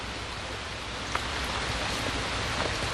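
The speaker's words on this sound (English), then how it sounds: "it's raining even harder" Heavy rain pours down steadily during a stretch of flash flooding, a dense, even hiss of drops with a few louder splats. No voices are heard over it.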